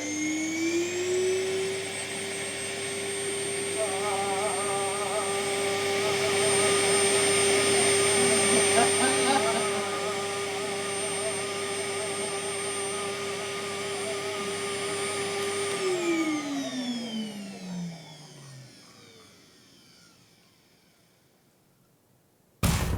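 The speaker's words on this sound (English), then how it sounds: "Henry Hoover, the lovable suction machine." A Henry Hoover vacuum cleaner in the game You Don't Know Jack runs with a steady whine for about sixteen seconds, then powers down with a falling pitch and fades out, loud and close with no talk over it.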